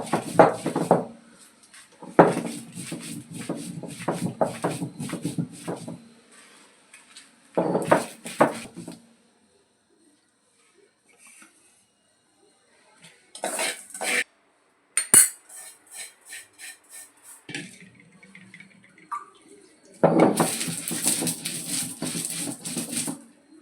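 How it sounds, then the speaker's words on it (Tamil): Chilli, coriander, cumin and coconut are ground on a traditional grinding stone for Kerala fish curry, with rhythmic scraping strokes in loud bursts separated by quiet pauses. "இப்போ நம்ம அம்மியில் வந்து இந்த மிளகாயும் வர கொத்தமல்லி, ஜீரகம், தேங்காய் எல்லாத்தையும் வச்சு அரைச்சிக்க போகிறோம்."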